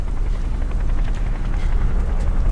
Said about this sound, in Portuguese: O helicóptero outra vez, está a fugir!